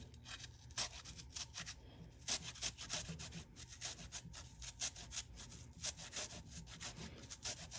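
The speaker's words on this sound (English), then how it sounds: "Take your half inch of, or your inch of ginger and put it against the zester." Fresh ginger root rasped against a metal zester for a sesame-ginger quinoa, giving repeated close scraping strokes in an uneven rhythm, fairly quiet with no voices.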